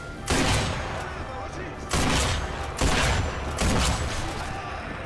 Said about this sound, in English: And is he going on the machine gun?